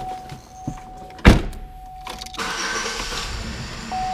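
A 2002 Oldsmobile Alero with 60,000 miles cranks briefly and catches, then settles into a steady idle close by, with a sharp thunk just before the start.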